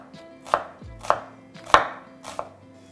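A knife slices a shallot into thin strips on a cutting board, four crisp, evenly spaced chops, close and clear with no talk.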